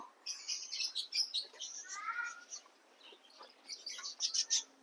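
Parrots and lovebirds give repeated bright, high chirps and squawks in bursts, close and moderately loud, with a faint rougher call in the middle.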